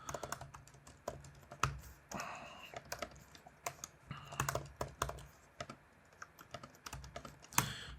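Computer keyboard typing while writing code: quiet, irregular bursts of key clicks and taps close by, with a few louder strokes, in a soft, steady room.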